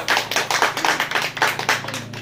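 An audience claps at a small ceremony honouring a student, a brisk run of close, dense hand claps without any speech.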